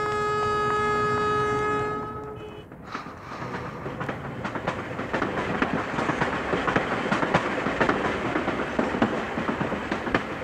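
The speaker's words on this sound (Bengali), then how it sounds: "চলি, ট্রেন আসছে" In a movie scene, a train arrives with a sustained horn blast lasting a couple of seconds, then gives way to loud, dense rumbling and rhythmic wheel clatter as the carriages roll in close by.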